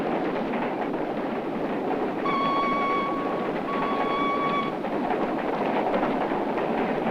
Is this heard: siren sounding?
no